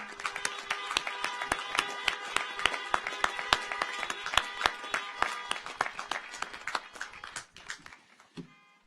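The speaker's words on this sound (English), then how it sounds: "Please join me in a round of applause" Claps ring out at a law school commencement ceremony, sharp distinct hand claps in a quick uneven rhythm from a modest crowd, close and clear, thinning toward the end.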